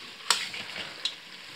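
Black chickpea gravy frying in a pan, a soft steady sizzle broken by two sharp stirring clicks against the pan.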